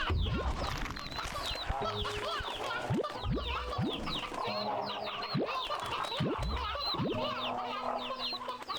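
A flock of chickens in the video game Slime Rancher 2 clucks and chatters continuously, many overlapping birds close by, layered over a low music bed with repeated rising swoops.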